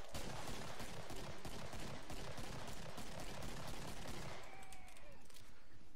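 Dual action pistols in Killing Floor fire in a dense, rapid stream of close, loud shots over steady game noise, easing off near the end as a ringing tone trails.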